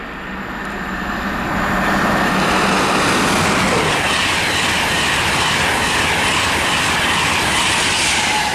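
A passenger train, the 10:17 London King's Cross to Edinburgh service, rushes past near Biggleswade as a loud, steady broadband roar that swells within the first two seconds and holds close and heavy to the end.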